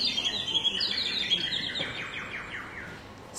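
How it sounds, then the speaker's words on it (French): A bird gives a long, high whistling call made of quick chirps that slide downward and fade, fairly close, with no talking. "poussa un très long sifflement"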